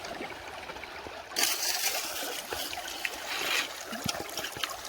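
Steady trickling and splashing of water running through a backpack gold sluice box during placer mining, a continuous close wash that grows fuller after a brief quieter start.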